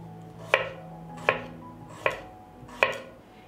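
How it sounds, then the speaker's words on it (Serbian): A knife chops through a head of onion, slicing it on a board: four sharp, evenly spaced cuts about 0.75 seconds apart, close and clear with no talking. "Iseckat ću jednu glavicu luka na šnitice."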